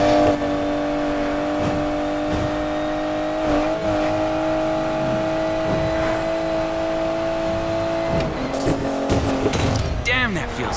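A car in the Need for Speed: Payback racing game revs and accelerates with a steady rising engine drone, then tires squeal and the engine note sweeps sharply near the end; a voice speaks over it.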